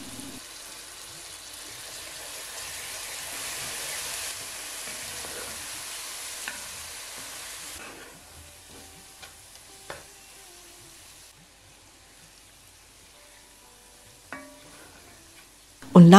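A yogurt spice paste is stirred into a potato-paprika curry in a pan over low heat, giving a soft, steady sizzle and hiss for about eight seconds. The frying then turns quieter, broken by a few scraping clicks and a clatter at the end.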